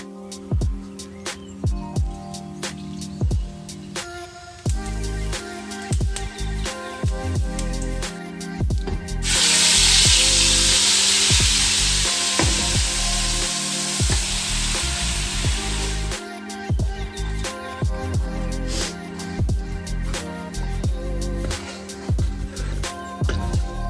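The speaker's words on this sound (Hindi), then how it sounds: "इतने यहाँ मसाले भून देती हूँ" Spices for palak paneer fry in oil in a kadhai, with close, repeated spoon scrapes and clatter and a loud, steady burst of sizzling in the middle before the stirring resumes.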